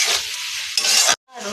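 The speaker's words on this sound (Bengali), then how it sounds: "দিয়ে ভেজে নেব চিংড়ি মাছটা" Prawns with salt, turmeric and chopped tomato fry in a hot pan, crackling loudly and sizzling as a spatula stirs them, with a brief pause before the sizzle resumes.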